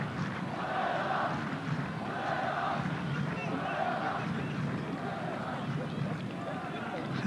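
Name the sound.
football stadium crowd chanting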